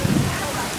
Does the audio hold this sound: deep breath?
no